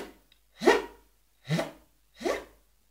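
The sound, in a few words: beatbox zipper sound imitation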